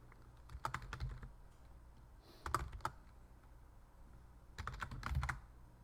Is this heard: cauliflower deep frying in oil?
no